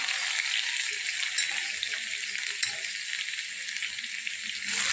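Cumin, mustard seeds and garlic sizzle in hot oil, a steady close crackling hiss with a few small pops throughout.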